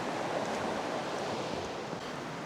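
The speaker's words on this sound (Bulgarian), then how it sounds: "А ето и река Черни Искър." The Cherni Iskar river flows along a winter trail, a steady, full rushing of water with no pauses or voices.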